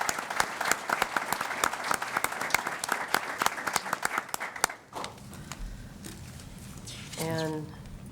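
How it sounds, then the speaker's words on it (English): A conference audience applauds the panelists of a robocall summit session, with dense, steady clapping for about five seconds that then stops, leaving quiet room tone and a brief voice near the end. "I'd like to ask everyone to give you a round of applause."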